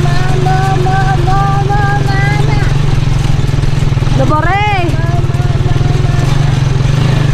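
A motorcycle engine drones loud and close with a constant low rumble, while people talk and shout over it on a rough road.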